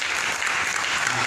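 Congregation applauding during a church service, a dense steady wash of many hands clapping at close range throughout, with no break.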